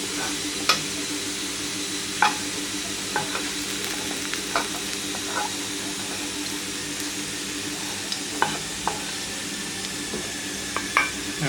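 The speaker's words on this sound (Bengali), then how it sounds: "লাল লাল করে ভাজতে হবে পেঁয়াজটাকে" Onions browning in hot oil in a pan for chhola bhatura give a continuous close sizzle, broken by scattered sharp scrapes and taps of a stirring spoon against the metal, with no talking.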